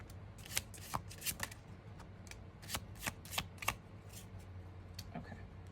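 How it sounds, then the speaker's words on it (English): A deck of tarot cards shuffled by hand nearby, a series of soft riffling bursts and taps in irregular clusters, quiet and with no talking. "I'm going to just shuffle through the rest of them"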